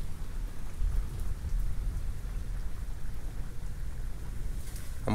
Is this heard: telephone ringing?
no